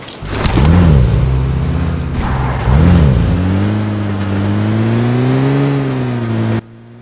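A car in the mobile game PUBG Mobile drives off, its engine revving up twice in loud bursts and then settling into a steady close drone before cutting off abruptly.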